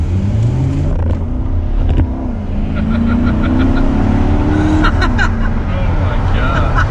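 A 2019 Chevrolet Corvette Stingray accelerates hard with wheel spin, its engine note climbing loudly from inside the cabin as the driver exclaims over it.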